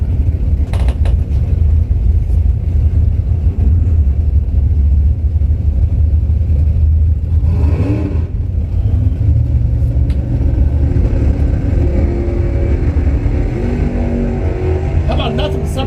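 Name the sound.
drag racing cars launching off the starting line, T-top Camaro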